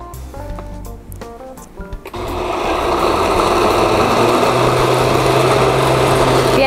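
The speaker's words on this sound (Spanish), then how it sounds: "procedemos a licuar" A blender purees lentils with oil for lentil tofu in a kitchen; after a few short clatters the motor starts and holds a loud, steady whirring grind close by until the end.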